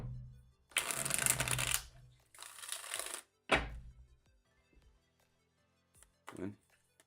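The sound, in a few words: shuffling a deck of tarot cards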